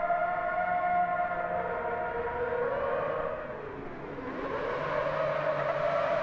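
A Group 1 race car in Gran Turismo 7, around 780 horsepower, drones steadily with a loud engine tone that dips briefly mid-way as revs fall and then climbs again, with no talk over it.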